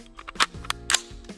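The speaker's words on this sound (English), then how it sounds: "You know I'm gonna reload." Gun reloading in the video game Ready or Not: a few sharp metallic clicks and clacks of magazine and action handling, close and crisp, with a low hum between them.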